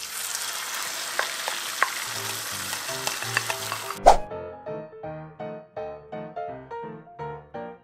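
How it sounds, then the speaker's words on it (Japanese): Mixed vegetables and egg batter poured into a buttered pan for Korean-style toast, giving a steady bright sizzle and frying hiss, then a sudden louder splash of sizzling as the mixture hits the hot surface, with music playing alongside. "合わせておいた野菜と卵液を加えて焼いていきます。"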